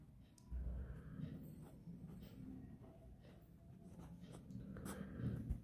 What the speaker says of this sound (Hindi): उस इंसान का नाम लिखना है जिसको आप अपने वश में करना चाहते हो।